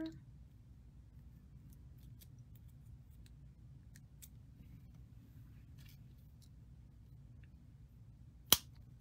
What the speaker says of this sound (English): Trim that